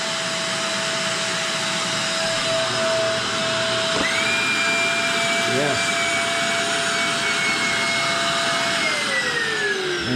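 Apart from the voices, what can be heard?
vacuum running during vacuum forming of a plastic lens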